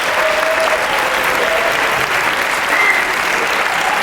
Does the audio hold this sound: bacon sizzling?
no